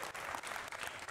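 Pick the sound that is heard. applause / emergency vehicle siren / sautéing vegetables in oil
applause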